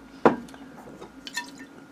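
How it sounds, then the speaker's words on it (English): A person takes a drink of water: one short, clear gulp or slurp near the start, followed by quieter faint mouth and liquid sounds, close and alone with no talking. "Just taking a drink of water."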